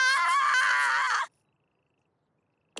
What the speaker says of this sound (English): I don't want to hear her scream with excitement anymore.